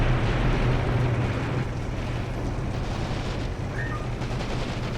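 Machine gun fire and explosions fill a dense, continuous battle din in the WWII war game Graviteam Tactics: Mius-Front, loud and unbroken, with no clear gaps between the shots.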